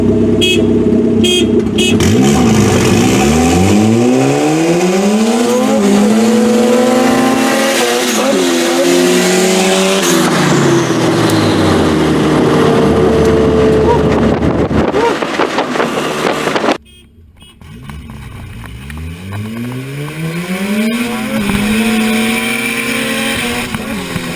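A turbocharged Acura Integra GSR revs hard and accelerates in several rising pulls, loud and close with a roaring engine tone. It cuts off briefly before winding up again.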